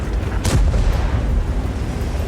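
A single tank gun shot from a Grille 15 in World of Tanks: one loud, sharp boom near the start that rolls off into a low rumble over steady background noise.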